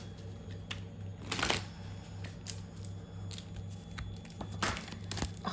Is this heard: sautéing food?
no